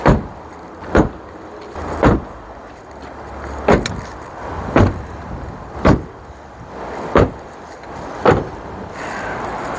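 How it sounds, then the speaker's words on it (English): A Rover 45's bonnet slams shut again and again, seven loud, close thuds spaced about a second or so apart with quiet pauses between. "You can even hear a quality difference in the sound of the bonnet close."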